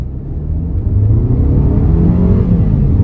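A 2025 KGM Torres Adventure SUV accelerates hard with the foot down, its engine note rising in a loud, close, continuous rumbling drone heard from inside the cabin.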